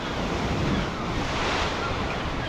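Sea waves wash below the cliffs of Dunnottar Castle in Scotland, a dense continuous roar of surf mixed with heavy wind buffeting the microphone.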